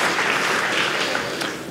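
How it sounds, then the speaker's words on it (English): An audience applauds the judges at the opening ceremony of a FIRST Robotics district competition, a dense, loud wash of many hands clapping steadily throughout, easing slightly toward the end. "Let's give them a round of applause."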